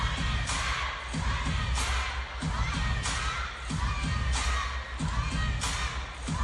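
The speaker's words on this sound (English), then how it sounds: "You can hear the crowd. Sun Yingsha, the chants must be ringing in her ears." Spectators at the WTT Europe Smash 2025 women's singles table tennis final keep up a loud, continuous roar, with pulsing waves of rhythmic chanting throughout.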